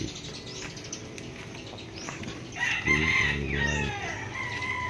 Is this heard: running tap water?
no